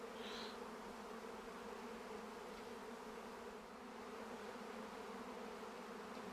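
A honeybee swarm gathered up in a tree gives off a soft, steady hum, faint and distant, with no voices over it.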